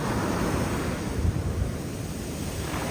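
Ocean surf washes up the sand at Woodside's 90 Mile Beach, a loud, broad rushing roar with wind buffeting the microphone and a swell building in the middle.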